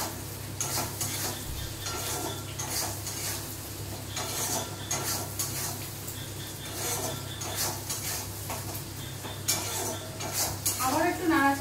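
Chicken stirred and fried in a pan, with continuous scraping and clattering of a metal spatula against the pan over a steady sizzle, rhythmic and close throughout.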